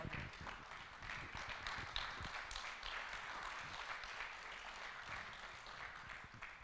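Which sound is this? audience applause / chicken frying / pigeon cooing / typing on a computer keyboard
audience applause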